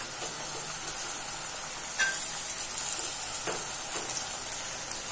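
Onion and garlic fry for a fish curry, making a steady loud sizzle in a pan with a few scraping stirs, heard close with no talking.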